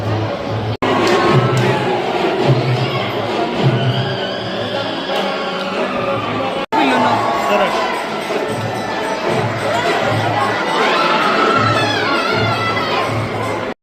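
A large crowd at Gangapur temple in commotion, with many voices shouting, chanting and crying out together in a loud, continuous roar. Brief cuts interrupt the din twice.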